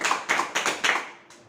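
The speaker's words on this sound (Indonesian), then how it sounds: "Terima kasih untuk saudara Rian, berikan tepuk tangannya." Short burst of classroom applause for a student during a lesson on hajj and umrah, four quick, loose waves of hand clapping from a small group of students, close and fading out.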